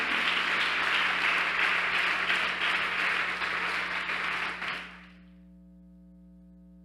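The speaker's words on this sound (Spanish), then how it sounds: "déle ese aplauso al Señor" Congregation applauding the Lord at a church Bible seminar: sustained, even clapping from many hands for about five seconds, then stopping abruptly into near silence with a faint hum.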